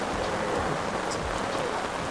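Rain falls steadily at an outdoor cattle stockyard, a dense, even hiss of drops with a low background rumble and no break.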